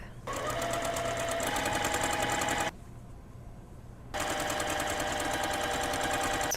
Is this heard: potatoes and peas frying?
no